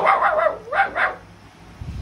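A voice imitates a dog, giving a few quick yappy barks and whiny yelps close up, followed by a short quiet stretch.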